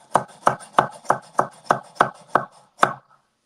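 A knife chops greens quickly on a cutting board, with eight crisp, evenly spaced strikes in a fast steady rhythm and a short pause before the last one, all close and clear.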